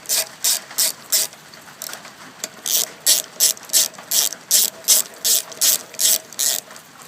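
Ratchet wrench tightening ignition coil bolts on a Briggs & Stratton 3.5 HP push mower engine, giving about fifteen loud, evenly spaced clicking bursts in a steady rhythm, close up and alone.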